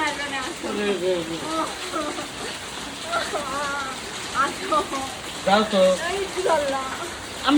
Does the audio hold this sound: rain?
yes